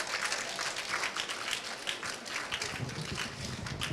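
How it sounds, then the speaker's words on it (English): An audience applauds an auction winner at a live performance event, a dense patter of clapping hands that stays fairly even and moderately distant throughout. "A big round of applause again for the winner of the auction"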